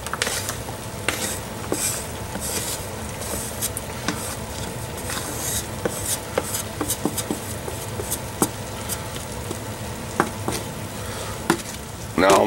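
Food with freshly added onions fries in a pan for a cheap week-long lunch batch, a loud continuous sizzle broken by occasional utensil clinks and stirring scrapes, no voices.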